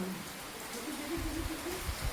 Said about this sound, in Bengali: আর এদিকে হচ্ছে বৃষ্টি, দেখো ওয়েদারটা জাস্ট অসাম